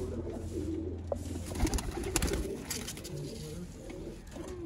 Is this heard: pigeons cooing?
yes